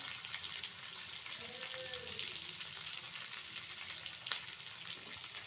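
Chopped onion and slit green chillies fry in a pan, producing a steady, faint sizzling hiss with a few soft stirring clicks and one brief sharper tap near the end, heard alone.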